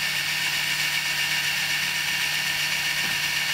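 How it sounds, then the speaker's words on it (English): A Viper-X string serving tool spins at a few hundred RPM, giving a steady, even motor hum close by that holds unchanged for the few seconds shown. "This tool runs about 300 to 400 RPMs."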